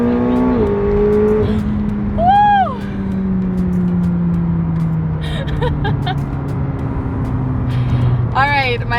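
A 2019 McLaren 720S pulls hard at full throttle from a rolling start, its engine note rising and shifting through sport-mode gears, loud and close from inside the cabin, with brief voices over it.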